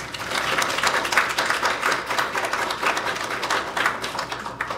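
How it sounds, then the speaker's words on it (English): Audience members at a mayor's Christmas card contest event clap for school board members, a moderately sized crowd giving steady applause with individual claps audible in uneven pulses. "give them a round of applause"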